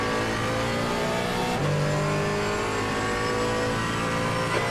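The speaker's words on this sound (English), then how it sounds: "Faster car approaching." Endurance racing game at the Nürburgring, a car engine revving hard and steady as a faster race car closes in from behind, its higher-pitched engine rising over the continuous drone.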